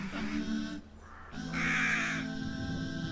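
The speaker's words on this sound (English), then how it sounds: "Rain is for Ghurabun, which is a crow." A crow caws loudly and close, a few harsh, rasping calls alone over a brief steady background.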